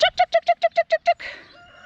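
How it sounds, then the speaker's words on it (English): Backyard garden chicken giving a rapid run of eight sharp, evenly spaced clucks close by, ending in a softer, rougher trailing call. "That's my chicken right there."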